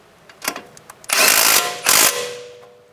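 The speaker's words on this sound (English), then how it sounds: "Tighten down the bottom bolt." A ratchet tightens the bottom bolt of a 2012-2016 Subaru Impreza steering knuckle: a few light clicks, then two loud, sustained rasping ratchet runs close by, the last trailing off.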